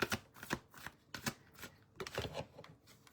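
Oracle cards being shuffled by hand to pull a card, in several quick riffling bursts with short pauses between them, close and crisp, with no voice.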